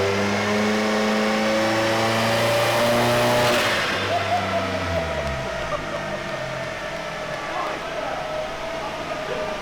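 A 1.8T-swapped VW Golf Mk1 engine revs hard on a dyno, rising loud and sustained before dropping back to a lower, rumbling idle-like drone, with voices faintly underneath.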